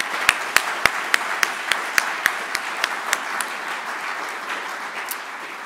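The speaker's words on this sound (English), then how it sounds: "we give them a special applause for all the work they have done to organize this" Applause at a user conference opening: a few sharp, separate claps ring out first, then a thick, steady patter of many hands fills in and gradually softens.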